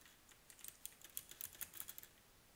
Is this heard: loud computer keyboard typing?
yes